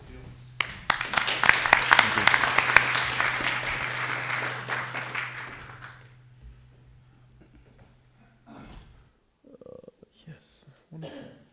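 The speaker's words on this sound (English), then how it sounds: "You can give them a round of applause still." A room of people applauds at a tech meetup on machine-to-machine ecosystems and identity. The clapping is steady and fairly close for about five seconds, then fades into quiet with a few faint stray sounds.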